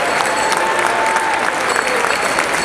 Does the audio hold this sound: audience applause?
yes